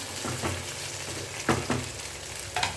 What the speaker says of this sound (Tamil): கத்திரிக்காய் நல்லா வதங்கி வரட்டும்